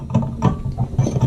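A kitchen sink plug fitting being tightened gives off a few short, close mechanical ratcheting clicks and grinding scrapes in uneven bursts, with no talking.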